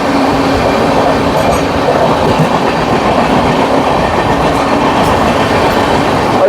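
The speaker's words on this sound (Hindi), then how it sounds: "और इधर से जा रही है वाराणसी देवघर वंदे भारत एक्सप्रेस" A Vande Bharat Express on the Varanasi–Deoghar route passes on the adjacent track, a loud, continuous roar of rolling wheels and rattling clickety-clack heard close by from aboard another moving train.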